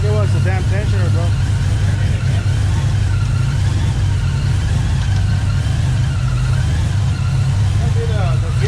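A car engine fitted with a Whipple supercharger runs loud and close with a constant deep rumble, while voices speak over it now and then.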